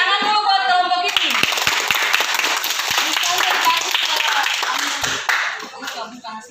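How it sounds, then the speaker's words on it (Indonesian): Classroom applause for a group of primary school pupils: many children clapping together in a dense, continuous burst that begins after a second of chatter and fades near the end, with voices talking over it. "Tepuk tangan dulu buat kelompok ini."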